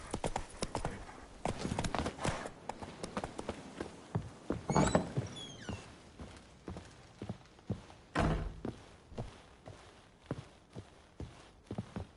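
Horse hooves clip-clopping in the video game The Witcher 3, a steady walking rhythm of hollow clops, close and fairly loud, with a few heavier thuds mixed in.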